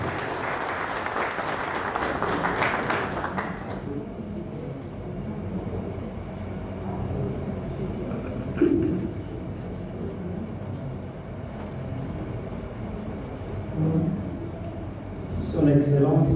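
An audience applauds for Monsieur Diari at a formal ceremony in the Comores, a dense clapping that fades after a few seconds into a low murmuring hall where a voice then speaks.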